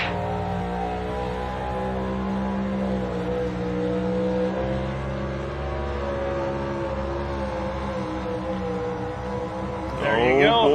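A four-wheel drive pulling truck at an NTPA truck and tractor pulling championship in Bowling Green roars loudly and steadily for about ten seconds, its engine harmonics rising and falling under a commentator's voice, ending in a sharper revving surge.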